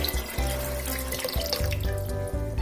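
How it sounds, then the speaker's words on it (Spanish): Water pours steadily from a tap into a pot of beans, a continuous splashing, gushing fill that stays loud and close throughout, with no talking. "Ahora sí le vamos a poner el agua suficiente para que los cubra."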